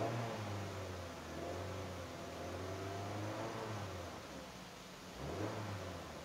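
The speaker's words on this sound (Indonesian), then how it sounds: "Sangat halus teman-teman suara mesinnya." Idling engine of a 2008 Honda Jazz RS with automatic transmission, a smooth, steady low hum heard from inside the cabin, with a brief rise near the end.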